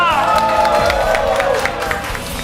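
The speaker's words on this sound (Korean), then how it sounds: "더 큰 박수가 필요합니다." Audience at a school alumni game show claps and cheers, a dense burst of crowd noise with shouting voices, fading slightly toward the end.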